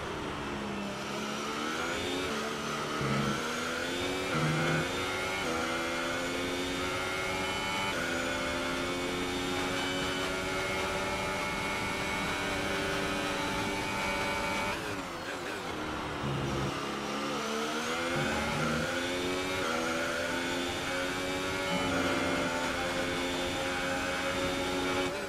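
Simulated Formula 1 race car engine from F1 2018 at the Brazil round, a loud, steady high-pitched whine rising and falling through gear changes, with a brief dip mid-lap before climbing again.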